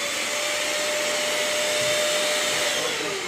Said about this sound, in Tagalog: Talagang nag-vacuum.